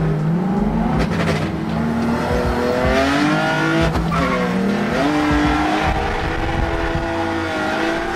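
Drift car tires squeal loudly through a 360 spin as the engine revs and rises, with a continuous close screech and shifting engine pitch.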